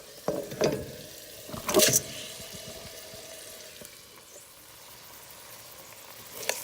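Uncooked parboiled rice, just washed, sautés in a pot with seasoning ingredients for yellow rice and red beans. A low steady sizzle runs under a few sharp scrapes and stirring knocks near the start, then settles into a quieter fry.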